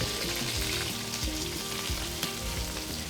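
Chard sautés in a pan with a continuous close sizzle and occasional stirring scrapes, seasoned with salt, pepper and garlic; no one speaks.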